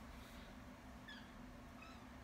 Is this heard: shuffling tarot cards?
no